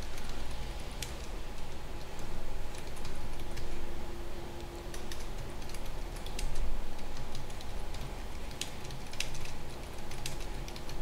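Fingers tap steadily on a computer keyboard during a web development class, a close, continuous patter of light clicks with small pauses, no voices.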